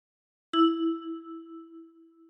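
A kalimba with 10 keys, one key plucked by the right thumb, producing a lone ringing tine note that lingers and fades steadily, nearby and without talk.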